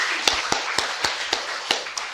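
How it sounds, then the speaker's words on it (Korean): A small church congregation claps in a slow, steady rhythm, about eight sharp distinct claps over two seconds, fairly close and without voices. "다시 한번 하나님께 박수로 영광을 올려드리기를 소망합니다"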